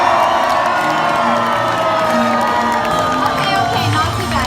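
Audience at a Universal animal actors show cheering and shouting loudly, a continuous roar of many voices with whoops and children's screams, close and sustained throughout.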